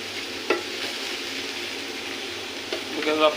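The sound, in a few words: chicken keema roasting in a pan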